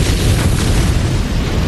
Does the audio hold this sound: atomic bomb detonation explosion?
yes